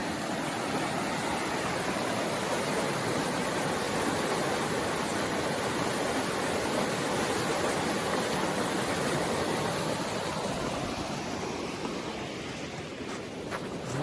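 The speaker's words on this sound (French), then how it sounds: "Et la rivière, le ruisseau Parker." Parker Creek in La Mauricie National Park rushes past in a steady, broadband flow of water, close and continuous with no voices.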